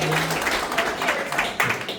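A crowd applauds steadily, a dense wash of clapping with voices mixed in, fairly close and even throughout.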